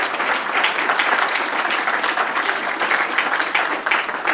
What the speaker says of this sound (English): My husband, Carlos Pedrinacci Godoy, I think he deserves an applause